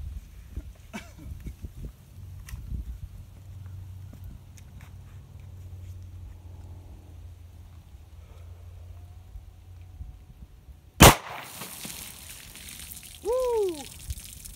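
A single sharp, loud shot from an HK USP Compact .45 pistol loaded with Hornady ammunition cracks out of a quiet outdoor background, followed by a few seconds of faint ambience.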